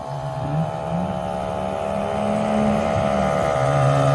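A Ridgid cordless tire inflator runs with a steady motorized drone and buzzing hum, close and moderately loud, its pitch wavering slightly throughout.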